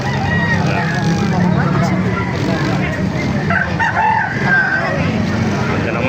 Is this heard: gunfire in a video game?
no